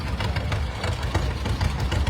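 A two-cylinder tractor engine runs close by at a classic tractor parade in West Bend, Wisconsin, with a loud, uneven, thumping putt-putt rhythm.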